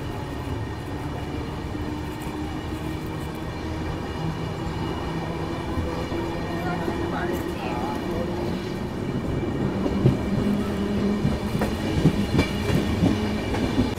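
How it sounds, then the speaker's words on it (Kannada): A passenger train pulls out of Hindupur railway station after a two-minute stop, its steady rumble and rhythmic wheel clatter on the rails filling the scene and growing slightly louder and busier toward the end, with voices talking faintly underneath. "ಇದು 2 ಮಿನಿಟ್ಸ್ ಸ್ಟಾಪ್ ಆದಮೇಲೆ ನಾವು ಹೊರಟ್ಬಿಟ್ಟಿದ್ದೀವಿ ಹಿಂದೂಪುರ ರೈಲ್ವೆ ಸ್ಟೇಷನ್ ಇಂದ"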